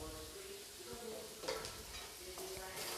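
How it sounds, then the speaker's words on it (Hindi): Besan (gram flour) being stirred and roasted in a simmering gravy, with a steady soft sizzle and scraping strokes of a spoon against the pan, close and fairly quiet throughout. "बेसन को मैं अच्छी तरीके से भून लूँगी"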